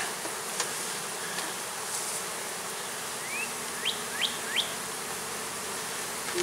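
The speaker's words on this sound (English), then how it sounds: "Now these girls have a proper hive to work with, grow into" Honey bees buzzing around a beehive during brood box work, a steady dense hum of many insects close by with a few individual bees whining past, no talk.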